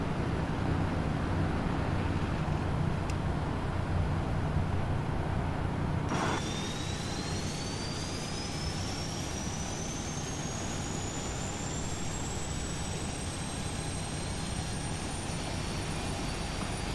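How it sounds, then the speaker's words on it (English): Aircraft engine one starting up in a flight simulator, a steady roar joined partway through by a rising turbine whine that climbs slowly and holds, moderately loud with no talk. "Okay, starting engine 1."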